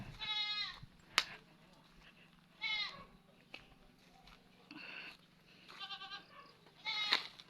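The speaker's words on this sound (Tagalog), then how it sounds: "Kambing." Goats near an abandoned family house in the provinces give several separate bleats, some quavering and some sharp, spaced apart over a quiet rural background with a few faint knocks.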